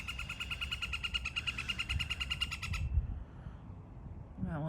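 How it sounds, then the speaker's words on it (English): A small woodpecker at an RV campsite calls with a rapid, repeated chattering series for a few seconds before falling quiet, close and fairly loud over a low outdoor rumble, with another short call at the end. "We got a little woodpecker friend here too."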